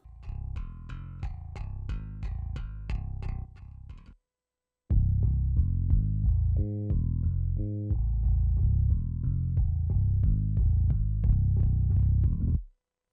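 A heavy, clipped sub bass track in a dense mix with its limiters switched off, rumbling loud and sustained with rhythmic stabs, briefly dropping out before returning at full weight.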